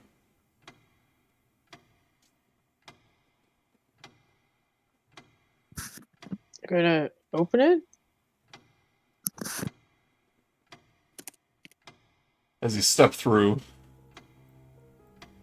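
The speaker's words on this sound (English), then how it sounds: "ticking of the clock stops." A tabletop D&D game, Curse of Strahd, with a clock ticking as a sound effect: faint, evenly spaced ticks about once a second throughout, with people talking briefly over them midway and near the end.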